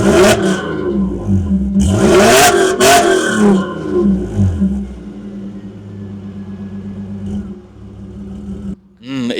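A car engine revs hard in several loud surges, then settles into a lower steady idle rumble before a brief click at the end.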